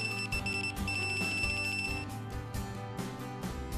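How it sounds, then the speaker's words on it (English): A handheld inventory scanner in locate mode emitting repeated electronic beeps, a series of short high tones in an uneven rhythm, close and clear over a background bed of sound. "it'll return an audible beep when you get close"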